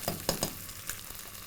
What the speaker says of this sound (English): Now, I will add ginger garlic paste.